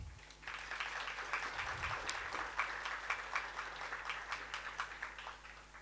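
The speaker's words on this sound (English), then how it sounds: "Another round of applause to all of you" Audience applause at a live national budget dissection event, a steady sustained patter of many hands clapping at moderate distance, continuing evenly for several seconds without speech.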